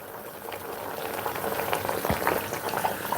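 Water boils vigorously inside a pressure cooker, a steady dense bubbling and hissing up close with occasional louder pops, continuous throughout and no talk.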